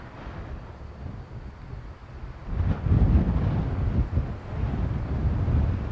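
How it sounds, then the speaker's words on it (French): Strong wind gusts buffet the microphone under an arcus cloud in the Puy de Dôme, a steady low rumble that swells sharply about halfway through and stays loud and turbulent. "Là, les rafales risquent d'être violentes."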